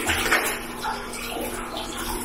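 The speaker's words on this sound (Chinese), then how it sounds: "烫个热水" Hot water pours steadily over a freshly picked wild Indian almond leaf to sterilize it, a close, continuous splashing rush with no talk.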